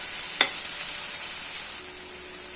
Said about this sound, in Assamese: এইখিনি মিক্স কৰি ল'ম লাহেকৈ